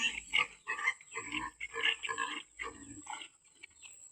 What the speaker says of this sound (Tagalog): itong baboy namin, oh. Ang bilis kumain.